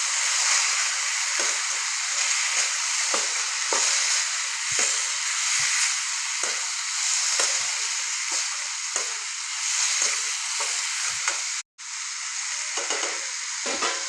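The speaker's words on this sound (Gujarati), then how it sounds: "તો હવે અંદર આપણે ટામેટાં નાખી દઈએ કાપેલા। હવે બરોબર આપણે મિક્સ કરી લઈએ।" Chopped tomatoes are stirred into a sizzling curry pan for sev tameta nu shaak, with a steady loud frying hiss broken by scraping stirs and a brief dropout near the end.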